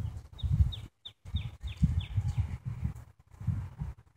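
Chickens cluck outdoors in Hadley, Massachusetts, giving short repeated calls close by, broken by brief gaps, over a low rumbling outdoor background.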